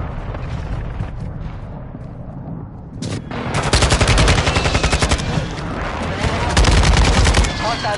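Gunfire in a Modern Warfare match: quiet game ambience first, then from about three seconds loud sustained bursts of automatic fire with a second heavy volley near the end.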